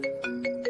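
A phone ringtone trills on an unanswered call, four short repeating melodic bursts in quick succession, clear and electronic, with no voices.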